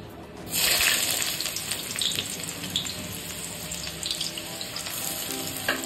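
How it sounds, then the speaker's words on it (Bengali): Chopped onions hit hot oil in a heated kadai (wok) with a loud burst of sizzling, then keep frying in a steady, crackling hiss close by with a faint clink near the end. "পেঁয়াজটাকে লাল লাল করে ভেজে নেব।"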